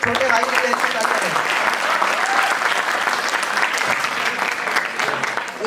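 An audience at a Hindi poetry gathering claps to welcome a poet, producing loud, continuous applause that persists for several seconds while a voice speaks over it.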